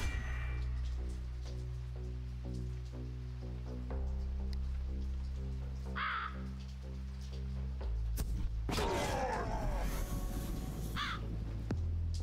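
Blood Rain card effect in a Lovecraftian roguelike deckbuilding game, a bright crackling patter of rain with sharp chimes over a sustained low droning music bed, the rain swelling in the last few seconds, no voices.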